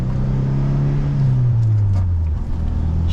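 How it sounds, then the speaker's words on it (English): A Chrysler car drives along with a steady low engine drone and road noise, the pitch easing down as it shifts, close and continuous from inside the cabin. "The car is definitely not built for comfort, but it actually drives pretty smooth."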